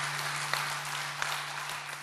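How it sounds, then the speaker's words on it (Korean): Church congregation applauding during an autumn revival service, a steady, fairly faint wash of clapping with a constant low electrical hum underneath and a couple of sharper claps standing out. "박수를 올립시다."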